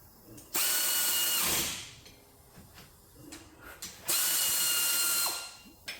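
Two loud, sustained whirring ratchet bursts of about a second each as a tool spins the brake caliper bolts on a Nissan Juke during a brake job, with quieter shop clatter between them.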